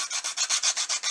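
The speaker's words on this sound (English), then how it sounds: "This is a really fine file." A really fine file rasping across a printed circuit board edge, about nine quick, even back-and-forth strokes in a steady rhythm, close and clear with no talk.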